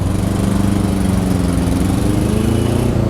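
A Hero Destini 125 Platinum BS6 scooter engine runs close by with a steady, buzzing putter, loud and even throughout with no voices.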